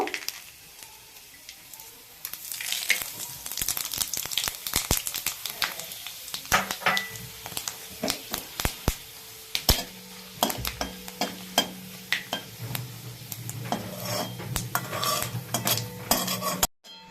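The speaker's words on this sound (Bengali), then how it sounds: "এলাচ দারুচিনি লবঙ্গ তেজপাতার পাঁচফোড়নটা তো সুন্দর করে একদম লাল করে ভেজে নিয়েছি" Cardamom, cinnamon, cloves, bay leaf and panch phoron frying in hot oil, a soft continuous sizzle broken by frequent sharp clinks and scrapes of a spoon against the pan, close by, no voices.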